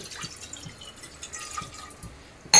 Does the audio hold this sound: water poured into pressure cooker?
yes